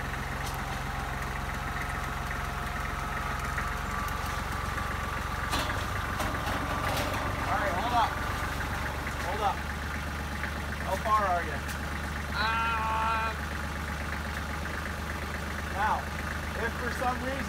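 A tractor idles with a low steady rumble throughout during culvert installation work, moderately distant, with a few brief metallic knocks and people talking intermittently.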